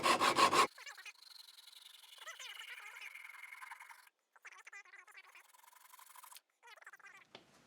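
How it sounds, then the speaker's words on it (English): Small wooden lathe-turned pieces sawn off by hand while held in a vise, a short loud burst followed by quieter rasping back-and-forth strokes that pause and resume, close by. "so now I'll take them over to the vise and just saw them off."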